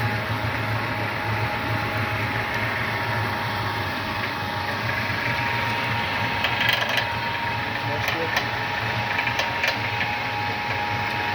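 A pellet mill motor runs steadily with a constant mechanical drone and light rattling, unchanging for the whole stretch.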